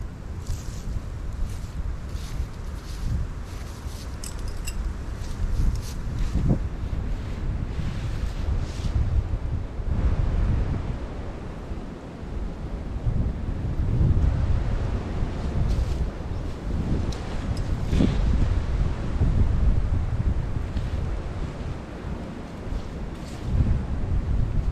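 Wind gusts roar steadily across the microphone outdoors while a tent is being pegged down, a continuous loud low buffeting that swells and eases, with occasional faint knocks and rustles.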